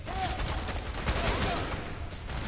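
Shotgun fire and chaotic combat noise in the video game F.3.A.R., a dense, loud barrage of blasts and impacts filling the whole moment without a break.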